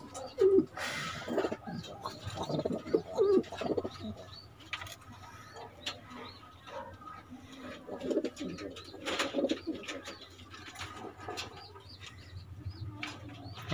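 Racing pigeons coo repeatedly at a loading and release day in La Paz, Tarlac, with soft overlapping calls and chirps against busy outdoor background noise.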